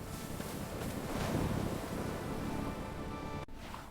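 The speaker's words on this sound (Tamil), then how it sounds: "காத்து ரொம்ப வேகமா அடிக்குது." Strong wind blows steadily and loudly across an open microphone, a broad rushing roar that swells in the middle and drops out briefly near the end, with no voices.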